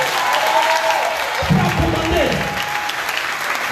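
A church congregation at a French-language Sunday service applauds and acclaims the Lord, a steady wash of clapping with crowd voices rising and swelling mid-way, loud and close throughout.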